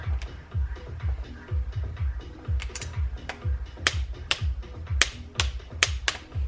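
A ratchet wrench tightens bolts during a piston change on a Beta RR 200 dirt bike, with rapid repeated clicking strokes, close and crisp, alongside low thuds, without speech.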